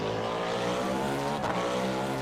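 Cadillac race car in the Le Mans Ultimate video game, its engine heard from outside as a loud, steady droning roar with a brief dip midway, no voices.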